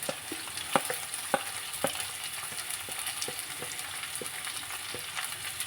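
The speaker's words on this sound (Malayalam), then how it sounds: "ഈ എണ്ണയിൽ ഇങ്ങനെ നന്നായി ഒന്ന് വഴച്ചെടുക്കണേ" Green mango pieces sautéing in hot oil, a bright continuous sizzle broken by soft scraping stirs and light taps of a spoon against the pan.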